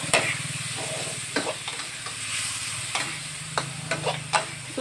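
Mixed meat stir-fries in a hot pan, a steady sizzle broken by several sharp scraping, stirring strokes of the spatula, close and loud with no voices.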